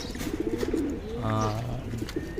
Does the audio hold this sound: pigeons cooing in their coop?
yes